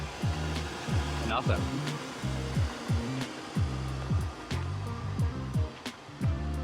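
A high-mileage LS engine with nearly 400,000 miles idles with a steady, even pulsing rumble and no ticking, heard up close while a person speaks over it.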